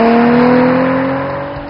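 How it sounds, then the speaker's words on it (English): A 2010 Hyundai Genesis Coupe 3.8 GT with dual exhaust revs in a loud, close, steady engine drone that eases off slightly toward the end, with no talking over it. "Every little press of the throttle is met with a notable increase in forward velocity and sound effects."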